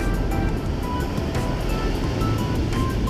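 Ocean waves break on an empty Southern California beach near a pier, a continuous broadband wash with periodic surges, fairly loud and close, with no talking.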